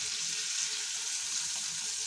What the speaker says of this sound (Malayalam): മീൻ വറുക്കാനിട്ടുണ്ട് കേട്ടോ